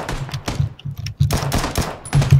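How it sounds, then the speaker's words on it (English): Rapid gunfire in PUBG, loud bursts of automatic shots and scattered single cracks crowding one another throughout, with no talk over them. "Someone's shooting at me."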